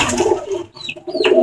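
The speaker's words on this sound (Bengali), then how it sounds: "দেখেন কবুতরগুলো কি উড়া উঠতেছে" Pigeons on a pigeon farm coo loudly and close up, throaty rolling calls that break off briefly and then resume.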